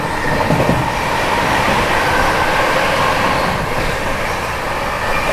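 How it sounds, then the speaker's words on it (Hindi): Indian Duronto Express passenger train running at speed through Amla Junction while overtaking the Mysore Superfast, a steady loud rumble of wheels and rails with rattling carriages throughout, no voices. "मैसूर सुपरफास्ट को ओवरटेक कर रही है यहाँ पर अपनी दुरंतो एक्सप्रेस"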